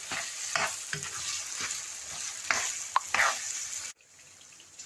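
Chicken macaroni cooking on high flame, a busy sizzle with several scraping stirs close by, cut off abruptly near the end into quiet.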